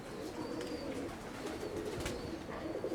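Tumbler pigeon cooing, soft low repeated coos over outdoor background noise, fairly faint and close, with no one speaking.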